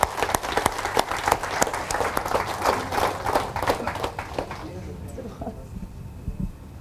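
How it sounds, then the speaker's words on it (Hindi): A seminar crowd at a Forever Living India motivational talk gives loud, dense applause with sharp individual claps for about five seconds, then it dies away to quiet with a few faint sounds. "इनके लिए जोरदार तालियां एक बार"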